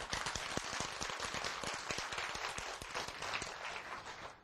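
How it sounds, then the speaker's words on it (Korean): Dense clapping from a lecture audience, steady and continuous throughout with sharp individual claps standing out, no voices over it. "박수!"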